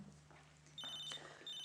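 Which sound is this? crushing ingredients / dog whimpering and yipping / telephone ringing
telephone ringing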